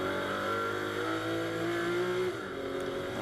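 Pirelli GT4 America race cars roar around Las Vegas Motor Speedway in a 2019 SprintX race, with loud, close engine noise and shifting pitch that ease off sharply near the end.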